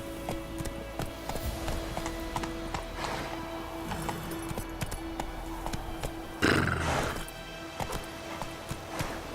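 Hoofbeats of a horse galloping in the Witcher video game, a steady clip-clop rhythm under game music with a brief loud burst midway.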